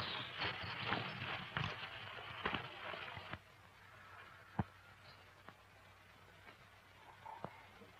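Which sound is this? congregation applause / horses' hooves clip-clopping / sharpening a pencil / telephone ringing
horses' hooves clip-clopping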